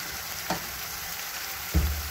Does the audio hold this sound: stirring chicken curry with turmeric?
yes